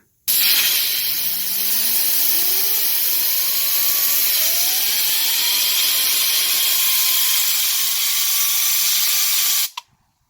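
A Honda CR-V blower motor wheel spun up with a blast of compressed air: a loud steady hiss runs throughout while a whirring tone climbs in pitch as the wheel gains speed, then cuts off abruptly.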